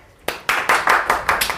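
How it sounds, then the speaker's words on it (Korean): A classroom group claps their hands in a short burst, about six sharp, close claps in an uneven rhythm lasting under two seconds. "박수."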